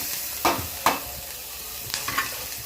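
Garlic sautés in a pan for a village-style mixed vegetable stir-fry, a soft steady sizzle broken by a few sharp scraping stirs.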